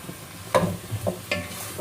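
A spoon stirs creamy sopas in a cooking pot, giving a few soft scraping clinks over a faint background sizzle, close and quiet.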